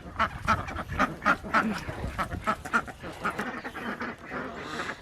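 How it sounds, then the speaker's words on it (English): Ducks quack repeatedly in a busy, overlapping chorus, several birds calling close by in quick irregular bursts. "So we have Louie and Mildred, and then the other 7 of the Quack Attack clan."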